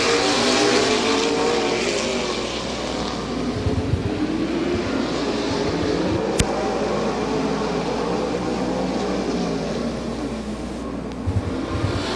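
Late model race cars roar around the Barberton Raceway Park oval during a ten-lap heat, a loud, continuous, close engine drone that swells and fades slightly as the pack passes.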